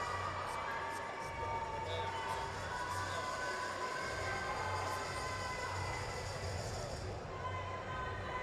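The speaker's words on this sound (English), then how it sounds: "Crowd is getting loud." A crowd gets loud at a collegiate powerlifting meet, making a steady, dense roar that fills the whole stretch without easing.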